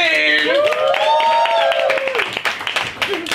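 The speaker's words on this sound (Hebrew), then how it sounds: "תנו במחיאות כפיים" A talent-show audience applauds on stage. A loud, sustained vocal note rises over the crowd first, then scattered clapping takes over and carries to the end.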